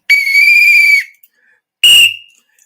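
Two sharp, shrill whistle blasts, the first held for about a second, the second shorter and trailing off, loud and close with silence between.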